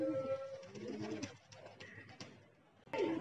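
Pigeons coo softly in short bursts at a rooftop loft, fairly close but quiet, with a brief voice and light background noise.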